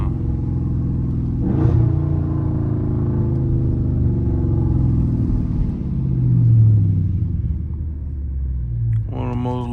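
A Dodge Scat Pack car drifts on the road, its engine rumbling deep and loud with revs swelling and easing, and a brief sharp burst near the end.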